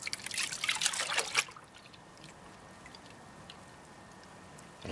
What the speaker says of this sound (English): And I know I tend to pan a little bit quick.